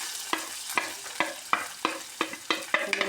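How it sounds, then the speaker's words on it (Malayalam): Mustard seeds and onion fry in coconut oil, a steady close sizzle broken by about ten evenly spaced scraping strokes of a spoon stirring the pan. "കടുക് പൊട്ടി വരുമ്പോഴേക്കും നമുക്ക് ഉള്ളി ഇട്ട് കൊടുക്കാം"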